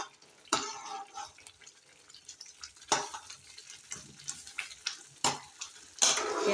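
Semolina halwa roasts in oil in a pan, a spoon scraping and stirring in repeated strokes over a soft, continuous sizzle, close and fairly quiet, with a few sharper scrapes standing out.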